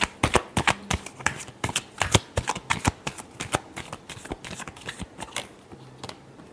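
Tarot cards being riffled in a last shuffle before a reading, a fast run of sharp, close papery slaps that loosens into scattered flicks near the end, with no talking.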